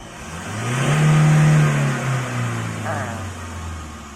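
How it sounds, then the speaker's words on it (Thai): A Raptor pickup engine revs hard with the accelerator held to the floor, giving a loud sustained drone that peaks and then falls away, with someone talking over it. "ผมจะเยียบคันเร่งแช่ไว้เลยนะครับ"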